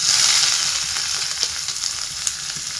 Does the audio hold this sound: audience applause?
no